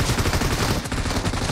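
Dense gunfire in the video game PUBG Mobile, heard as a rapid, loud burst of overlapping shots that fills the whole short clip.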